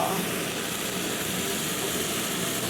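Pork is stir-fried with cabbage and garlic in a pan, giving a constant, even sizzling hiss that runs without a break and with no voices.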